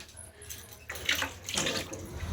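A kitchen tap runs while chicken meat is washed under it, a steady close rush of water that swells in splashy bursts as the pieces are handled.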